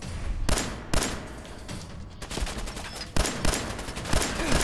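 Rapid bursts of gunfire from the video game Fallout 4, with repeated loud shots and sharp volleys crackling through a dense, continuous battle din.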